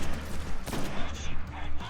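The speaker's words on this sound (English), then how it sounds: "I'm going to chuck a couple more grenades." Grenades explode in the video game Destiny during a solo Nightfall strike, a dense run of loud blasts and gunfire rolling together with no gap.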